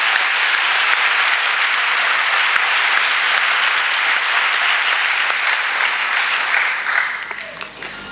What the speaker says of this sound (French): de rendre hommage au docteur Massamba Gueye, que je vous demande d'applaudir chaleureusement.